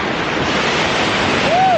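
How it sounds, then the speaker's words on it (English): Ocean surf breaks on a Myrtle Beach shoreline as a loud, steady wash of noise that fills the whole stretch, with wind buffeting the microphone. "look at these waves"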